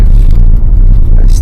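Tesla Model Y cruising on Highway 95 north, a loud, steady road and tire roar filling the cabin without pause.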